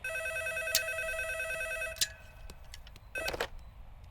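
An electronic telephone rings in a room, repeated warbling trills with a brief pause between them, loud and close with no talking.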